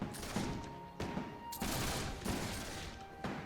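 Massed gunfire in a video game battle in Between Empires, with repeated ragged volleys and bursts of shots overlapping in quick succession.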